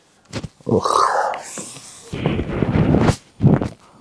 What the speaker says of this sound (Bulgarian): Добро куче.